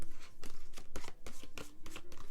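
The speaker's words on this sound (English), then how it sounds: "Let me give these a shuffle." Tarot cards shuffled by hand in a steady run of soft, papery riffling bursts, close up and moderately loud, with a faint low hum underneath and no talking.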